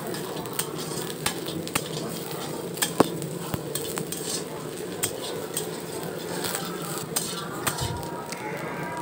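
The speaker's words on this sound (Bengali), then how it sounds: "দিয়ে কিছু সময় আমি লাল লাল করে ভেজে নেব সয়াবিন বিটগুলো" Soya chunks, washed and squeezed, fry in a wok with a steady low sizzle while a metal spatula stirs and scrapes, giving scattered clinks close by. No one speaks.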